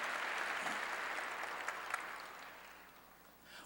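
Clapping from a church congregation during a Korean sermon rolls on as a soft, distant patter and slowly dies away, with no voices heard.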